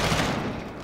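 Dense gunfire in Call of Duty Modern Warfare, a loud burst of overlapping shots filling the short moment before tailing off slightly.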